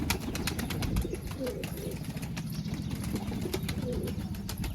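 Soft pigeon cooing runs steadily under a noisy outdoor background in Rajkot, with occasional faint voices and wing flutters.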